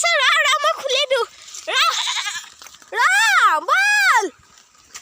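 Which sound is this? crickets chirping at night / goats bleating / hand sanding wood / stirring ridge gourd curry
goats bleating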